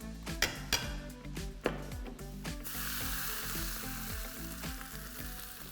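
Basic tadka of coriander, cumin and asafoetida sizzling loudly in hot oil, a steady crackling fry, with a few sharp clinks of a utensil against the pan early on.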